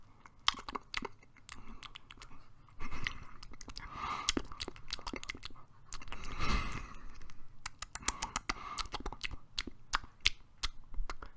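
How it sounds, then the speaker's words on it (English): Crab eating: irregular small clicks, crunches and scratchy snaps, close and faint, scattered in uneven bursts with no voices. "the sound of a crab eating"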